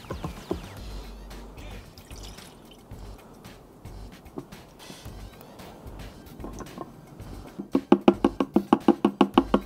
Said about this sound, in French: Je vais remplir le vase d'expansion.